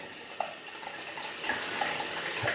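Water drips and trickles onto shaving soap, a soft, close, steady wet patter with a few brief brighter splashes and no talking.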